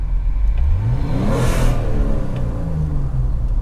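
A BMW six-cylinder car engine runs loudly nearby while stationary, its rumbling pitch swelling as it revs, then settling back down, with no one speaking.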